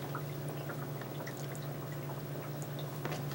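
Water dripping and pouring while frozen blood worms are rinsed in a brine shrimp net, a steady close trickle with small scattered drips and splashes, no voices.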